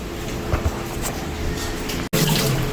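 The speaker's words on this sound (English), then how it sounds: "Let me wash up that sink." Tap water running into a kitchen sink while it is washed, a steady close splashing stream with a brief cut near the end.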